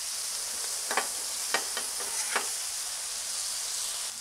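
Marinated steak strips fry on a Blackstone griddle with a constant close sizzle, broken by several quick spatula scrapes and taps as the meat is turned, with no voices.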